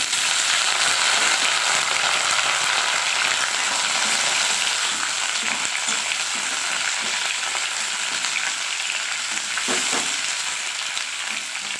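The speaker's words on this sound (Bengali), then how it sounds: "সর্ষের তেল আমি দিয়ে দিয়েছি আমি আলুগুলো হালকা ভেজে নেব" Parboiled potatoes fry in mustard oil with a loud, dense, continuous sizzle up close, a few faint stirring knocks near the end, and no talking.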